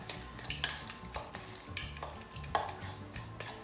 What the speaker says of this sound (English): I'm going to get my fork and just kind of just mix it